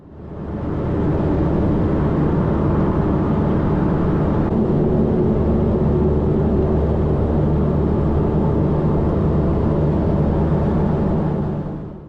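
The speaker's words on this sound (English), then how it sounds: "We taxied to runway 10 via Charlie and runway 28." A propeller airplane taxis toward the runway on King Island, a steady, loud engine drone with low rumble rising in and holding evenly throughout, no talk.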